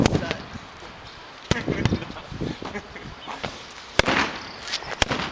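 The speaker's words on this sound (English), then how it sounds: "These are our American boys beating the rug with a baseball bat and a rake" A rug struck with a baseball bat and a rake, giving sharp, loud, irregular whacks spaced a second or so apart amid outdoor background noise and some voices.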